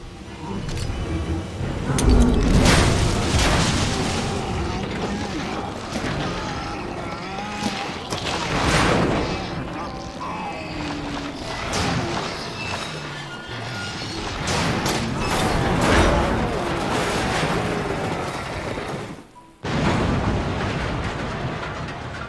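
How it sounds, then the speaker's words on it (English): A heavy shipping crate crashes into an enemy in Resident Evil 2, loud repeated smashing thuds and rumbling impacts over dense game noise, with a brief drop to near silence before the din resumes. "You're getting smacked by the shipping crate, Billy B."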